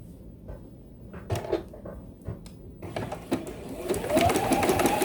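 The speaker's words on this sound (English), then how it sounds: "I'm going to use that for my white thread to stitch this little white flower down" A sewing machine stitches a small white appliqué flower down with white cotton thread for a Christmas tree quilt, starting with scattered clicks and knocks, then breaking into a close, running whir that grows louder toward the end.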